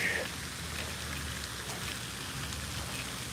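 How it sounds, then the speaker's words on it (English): Light early-morning rain falls outdoors at a fishing spot, a soft steady hiss of drops with a brief chirp at the very start. "And it's raining a little bit."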